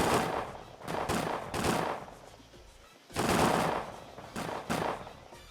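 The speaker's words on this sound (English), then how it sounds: "I do think it's cool that they're actually using muskets." Musket gunfire in the strategy video game Tropico 5, with repeated volleys of shots in bursts, a short pause midway, then more loud crackling volleys.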